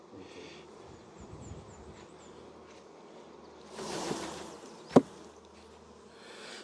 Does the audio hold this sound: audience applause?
no